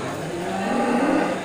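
Simmental Cross cattle mooing at a busy livestock market before Eid al-Adha, a loud, drawn-out low moo close by with crowd noise behind.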